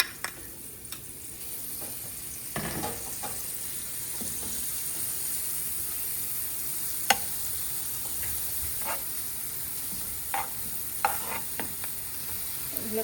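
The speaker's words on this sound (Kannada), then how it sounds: "ಎಣ್ಣೆ ಹಾಕ್ತಿದ್ದೀನಿ. ಈರುಳ್ಳಿ ಫ್ರೈ ಮಾಡ್ತೀನಿ." Onion paste frying in oil for homemade rasam, a soft continuous sizzle with occasional clinks and scrapes of stirring, close and fairly quiet, with no talking.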